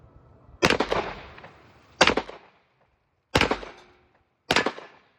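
Four loud gunshots from a cheap Hi-Point JXP 10mm pistol with a threaded barrel, fired singly at uneven intervals of about a second, each a sharp crack with a short decaying echo.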